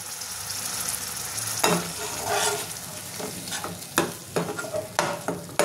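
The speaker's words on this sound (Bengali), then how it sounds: "এটা আমি কষে নেব।" Bengali-style spice paste for hilsa polau fries in a pan, a continuous close sizzle punctuated by repeated sharp scrapes and knocks of a spatula stirring it, with no one speaking.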